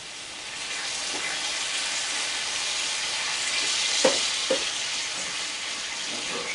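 Chicken jambalaya ingredients stirred in a hot pan, giving a steady close sizzle and frying hiss throughout, with a few soft scraping knocks of the utensil against the pan partway through.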